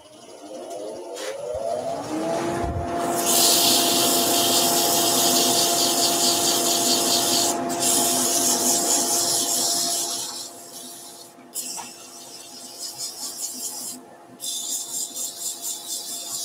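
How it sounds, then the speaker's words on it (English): Steady, loud abrasive whirring of a power sander on a wooden pepper grinder, running continuously with a few brief pauses and pulsing toward the end. "Okay, so let's do some sanding."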